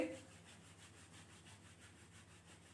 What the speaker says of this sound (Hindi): हाथों को आपस में रब करिए।